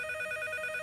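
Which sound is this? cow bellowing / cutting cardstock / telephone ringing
telephone ringing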